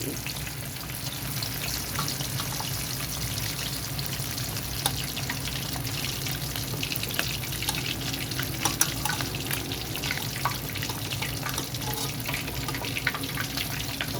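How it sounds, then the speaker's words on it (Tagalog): Homemade chicken deep frying in hot oil, a steady, dense sizzle and crackle running throughout at close range, with occasional faint kitchen clatter and no talk. "So, magsasalang pa tayo ng isa. Siyempre, deep fry yan."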